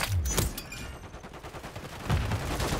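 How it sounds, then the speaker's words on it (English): Shotgun fire in Call of Duty MW3, a couple of loud close blasts with low booming thumps spaced across a busy, noisy game mix, no talking. "And there's the shotgun."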